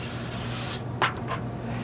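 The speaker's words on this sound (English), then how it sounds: "We're just going to give this a spray" Cooking spray hisses from a can onto a pan in one steady burst lasting under a second, close and fairly loud, followed by a couple of faint short puffs.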